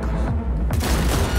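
A grenade goes off in the Cyberpunk 2077 video game: one loud, broad burst of blast noise fills the short moment, with rumbling low end and no talk over it.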